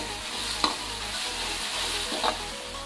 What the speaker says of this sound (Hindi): एमती हाफ मिनिट पर्यंत पियाज सहित अदा रसुण पेस्ट जमी भल भाव फ्राए करने।